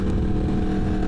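A motorcycle with a loud exhaust drones continuously up close, a dense, steady engine roar mixed with wind noise and no speech.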